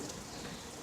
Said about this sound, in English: now we're just going to drain our pasta